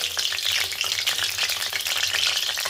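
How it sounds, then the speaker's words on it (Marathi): Bread slices frying in hot ghee for shahi tukda, heard as a steady, dense, close sizzle that holds loud and even the whole time, with no voices. "तूप व्यवस्थित गरम झालंय तेव्हा मी ब्रेड ॲड करते"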